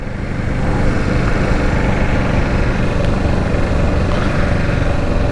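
Kawasaki Z650 motorcycle with its stock exhaust, a steady loud engine drone with broadband wind rush, heard from the rider's position while riding along, no talking.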